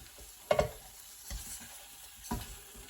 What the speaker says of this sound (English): I'll give it a bit of a stir round.